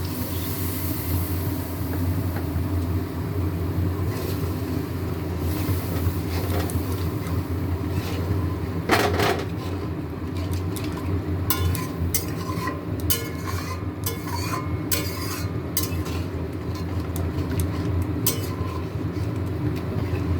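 Water is poured into spiced fish curry masala frying in oil, giving a loud, close bubbling sizzle and hiss with scattered sharp crackles and clatters. The noise continues steadily and no one talks.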